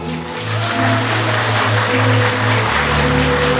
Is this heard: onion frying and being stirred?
no